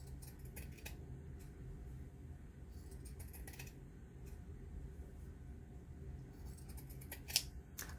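Quiet, scattered snips of scissors cutting a paper sewing pattern, short crisp clicks spaced irregularly over a low steady room hum, with one sharper snip near the end.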